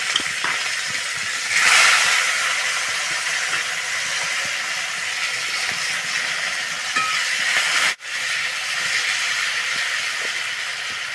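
Chopped onions frying in oil in a pan, a steady loud sizzle that runs the whole time, brief surges as they hit the oil, no voices.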